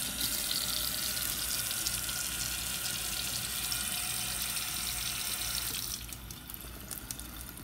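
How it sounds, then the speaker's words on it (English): Tap water runs steadily into a container holding shave soap for a wet blooming test, a close, even rushing stream that thins and quiets over the last couple of seconds. "let's put a little more water in here"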